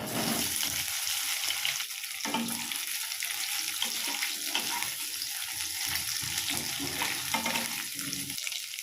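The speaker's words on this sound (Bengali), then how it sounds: "তেলটা গরম হয়ে গিয়েছে, এবার আমি ডিমগুলোকে ভেজে নেব।" Eggs fry in hot mustard oil in a wok, a loud, continuous crackling sizzle with scattered pops and spatters, heard alone without talk.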